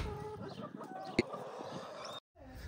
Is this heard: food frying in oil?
no